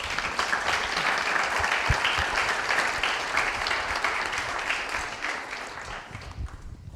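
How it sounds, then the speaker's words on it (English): A conference audience gives sustained applause for speaker Frank Russo after his talk, a thick, even roar of many hands clapping together that tapers slightly near the end. "round of applause for Frank Russo"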